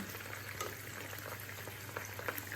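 Hot pepper frying in a pan for a quick tuna and lemon spaghetti sauce, a faint low bubbling sizzle with a few soft pops over a steady background hum and no speech.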